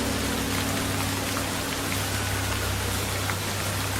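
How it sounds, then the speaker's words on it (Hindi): Steady rain falling, a dense even hiss of drops on surfaces with a low constant rumble beneath, loud and unbroken throughout. "जैसे जैसे हम आगे बढ़े, धीरे धीरे बारिश होने लगी।"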